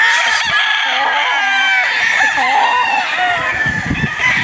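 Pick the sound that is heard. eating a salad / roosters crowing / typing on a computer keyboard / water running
roosters crowing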